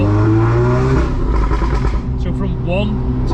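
A 500bhp Revo-tuned VW Golf R on a Stage 3 tune runs at low revs in second gear, its engine droning loud and steady, climbing slowly with heavy turbo lag while the driver talks over it.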